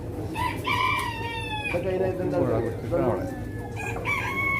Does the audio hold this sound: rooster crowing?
yes